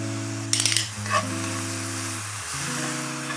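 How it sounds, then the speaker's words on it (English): Steady sizzling of mushrooms frying in a hot pan, continuous and close, with a couple of brief stirring scrapes near the start. "When I hear the sizzling start to slow, it means a lot of the water is coming out of the mushroom"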